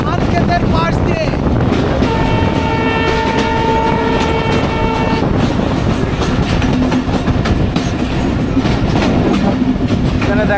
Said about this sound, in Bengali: আমাদের ট্রেন কিন্তু উড়ে চলছে চমৎকার ধান ক্ষেতের পাশ দিয়ে।